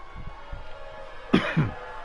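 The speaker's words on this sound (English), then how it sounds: "Sorry, I had a cough." Two sharp coughs in quick succession, fairly close, following some faint low murmuring.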